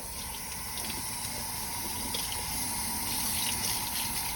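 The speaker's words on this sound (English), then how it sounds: "Make sure you always wash vegetables good because little buggies like to hide in them" Broccoli is rinsed under a running kitchen tap, with a steady, close, unbroken gush of water splashing continuously throughout.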